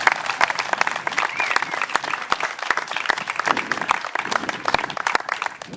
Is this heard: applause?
yes